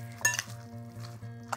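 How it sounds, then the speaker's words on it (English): A final stir of kale and ricotta galette filling in a pan, with a brief clink and scrape of a utensil against cookware over a faint hum, near and quiet. "One last stir."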